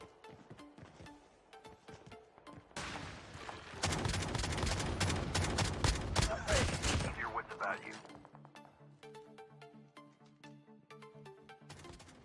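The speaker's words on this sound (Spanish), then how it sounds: "Aquí vemos la efectividad de saltar mientras disparamos" In Call of Duty Mobile a player fires while jumping, giving a sustained loud burst of rapid gunfire in the middle, framed by quieter game music and interface tones before and after.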